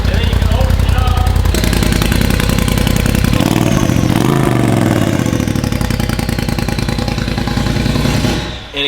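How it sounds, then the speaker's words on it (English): Engine with an Evolution Power Sports valve exhaust opened, revving loud and continuous with a rising, throaty roar that swells midway and holds steady before dropping off at the end. "So I'll start it up. Pretty quiet when it's closed. And then you can open it up."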